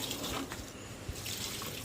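Water splashes and gurgles as it is poured from a bucket into potted plants, a soft continuous stream heard close and faint with no talk.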